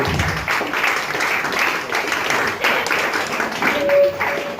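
An audience at a campsite show by the Lac des Varennes applauds volunteers after a hypnosis act, with dense, steady clapping that holds for several seconds and a brief voice near the end.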